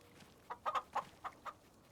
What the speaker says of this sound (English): I want to come over here to check on my chickens.